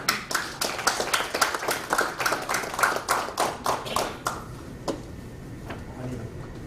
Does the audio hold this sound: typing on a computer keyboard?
no